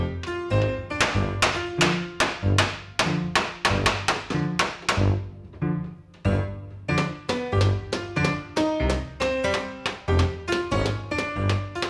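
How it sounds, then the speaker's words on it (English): A hammer strikes a dented BMW E30 body panel to straighten its body line, ringing metallic blows in a steady run of about two per second, loud and close, with a brief pause midway. "take a hammer and make the body line straight again"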